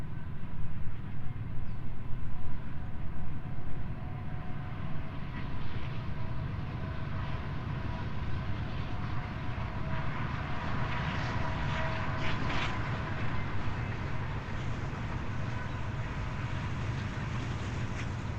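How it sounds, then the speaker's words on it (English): A train rumbles past a lakeside outdoor spot as a steady, continuous low roar that swells slightly and holds throughout, with faint higher rattling mixed in and no voices. "I hear the train coming, so bear with me. We'll hold the stretch while it passes by."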